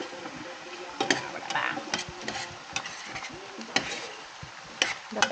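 Pansit noodles stirred in a pan: soft scraping and clicking taps at an irregular pace over a faint sizzle, fairly quiet and close, with no talking.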